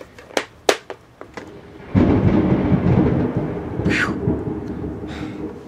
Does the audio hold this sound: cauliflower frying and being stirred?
no